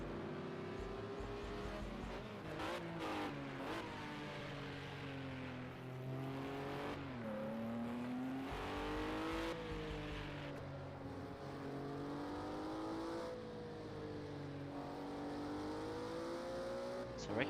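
A Sauber C9 Mercedes-Benz Group C prototype racing at Sugo in a racing game, heard from onboard: a steady, loud engine note that climbs and falls through upshifts and downshifts, running continuously with no talk.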